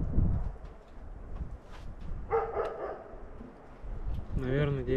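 A dog barks in a rural forest setting near a dugout and log hut, with a few short, moderately distant barks in the middle and end, while people talk nearby.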